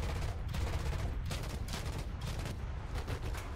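A tank's overheated gun fires rapidly in War Thunder, a dense, continuous rattle of shots blending into a loud, unbroken roar with no voices.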